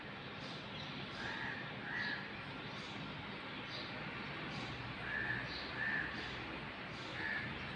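Several crows call outdoors beside a balcony with Malabar spinach plants, giving scattered harsh caws in small clusters that sound moderately distant against a soft, steady background hush.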